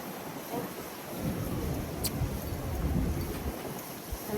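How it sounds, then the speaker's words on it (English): Distant thunder rolls low and steady beneath rain-like hiss at a beach, fairly faint, with no voices over the rumble. "There's always rain when it's thundering."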